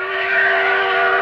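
A steady steam locomotive whistle holds one sustained, loud, bright tone with strong harmonics, heard alone.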